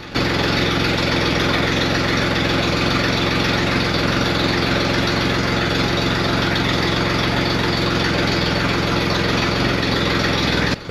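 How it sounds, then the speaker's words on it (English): A Triumph Rocket motorcycle engine idles steadily while warming up, a loud, continuous low rumble with an even throb that holds unbroken for the whole stretch, no voices over it. "the rocket sounds really good. And now I can just stand here and enjoy the sound while it's warming up."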